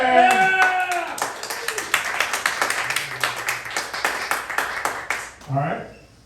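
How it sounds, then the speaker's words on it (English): Audience at a comedy roast battle clapping for a contestant, a brisk run of fairly sparse claps in the middle of the room, with people talking at the start and end. "round of applause for Ryan Sim"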